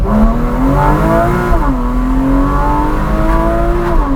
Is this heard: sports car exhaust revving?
yes